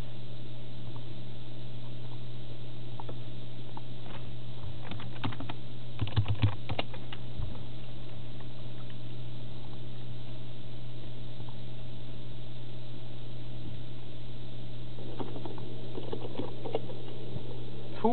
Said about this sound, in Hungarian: De hallatszódik a billentyűzetem.